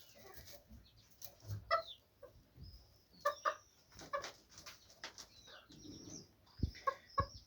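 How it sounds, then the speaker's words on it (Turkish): Chickens cluck repeatedly at close range, short clucks coming in uneven bursts with brief quiet gaps between them, in a flock of hens and a rooster. "Bende 3 tane büyük tavuk var. 3 1 3 tavuk bir horoz."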